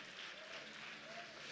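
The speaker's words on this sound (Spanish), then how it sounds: "denle un fuerte aplauso al amor de Cristo" A church congregation breaks into applause, a quiet, continuous wash of many hands clapping with faint crowd murmur and a voice mixed underneath.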